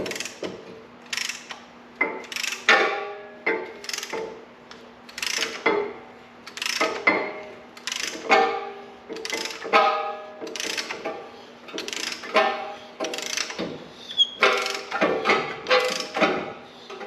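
A ratcheting brake caliper compressor tool clicks in a steady repeated rhythm as it works on an Acura TLX front caliper. The sharp, close ratchet strokes come about once a second, with no talk.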